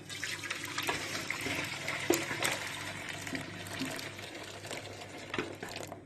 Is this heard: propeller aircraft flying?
no